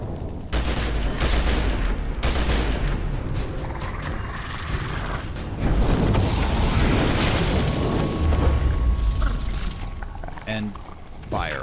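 9mm gunfire in The Secret World video game against locust demons, dense bursts of booming shots and mechanical clatter layered over game noise, loud and continuous with short lulls.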